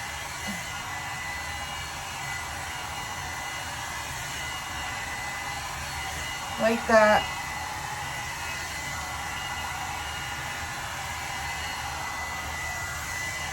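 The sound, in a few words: hair dryer blowing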